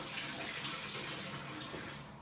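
Tap water runs steadily from a kitchen faucet as a whisk is rinsed off during vegan barbecue mac and cheese cooking, a continuous close hiss and splash with no talking.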